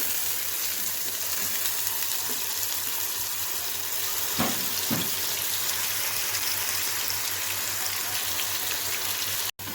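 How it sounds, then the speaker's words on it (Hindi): Onions sizzling in hot oil for beef nehari, a steady broadband frying hiss throughout with faint clinks near the middle, no talk. "देखिए हमारा ऑयल हो गया गरम। सबसे पहले हम इसमें प्याज ऐड करेंगे।"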